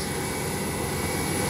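Scoot Tiger Air airliner at Sam Ratulangi International Airport in Manado preparing for takeoff, its engines giving a steady, loud, broadband jet roar with a constant whine and no break.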